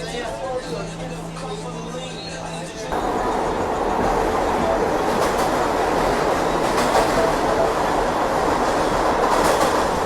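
New York City subway train without air conditioning rumbling along the rails with clattering and hiss, a voice speaking briefly at the start before the noise grows louder and steady.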